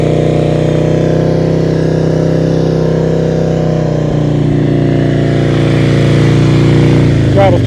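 A motorcycle engine runs at low speed during slow-speed riding practice in Maryland, a loud, close, steady drone with a faint rise near the end and a voice talking over it.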